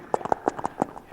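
A voice mimics galloping horse hooves with short, crisp clip-clop bursts in an uneven rhythm over about a second, delivered close and moderately loud as part of a mimicry performance.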